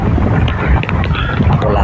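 Strong typhoon wind at sea buffets a fishing boat, a loud, steady roaring rush with microphone wind noise that fills the whole stretch, while someone talks underneath.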